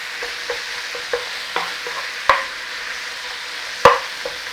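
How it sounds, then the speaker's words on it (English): Minced beef frying in a pan under a soft steady sizzle, with a spatula tapping and scraping at uneven intervals as the meat is broken up, a few sharper knocks against the pan. "So just break up your meat in there and cook it off."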